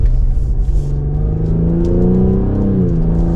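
Exhaust of a 2024 Cadillac CT5-V with a twin-turbo V6 under acceleration, a loud, deep rumbling drone whose pitch climbs steadily as revs rise, close and without talk.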